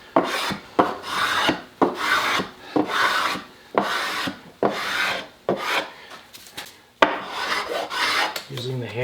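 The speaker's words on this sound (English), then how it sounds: "Using the hand scraper just to take out any tool marks from the planer, hand planer" A hand scraper smooths planer tool marks from the planed wooden body of a Telecaster guitar, making a series of loud, close, rasping strokes in a steady back-and-forth rhythm with brief pauses between them.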